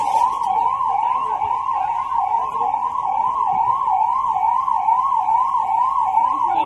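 An emergency siren wails continuously in a regular rising and falling pattern, loud and close, with no other sounds or talk over it.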